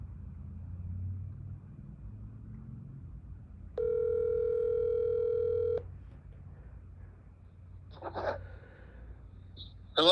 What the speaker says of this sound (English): Let me see if I can get Mr. Polenz on the phone